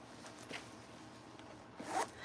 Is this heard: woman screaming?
no